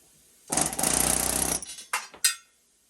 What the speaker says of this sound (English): I switched my little chisel attachment, is just hit it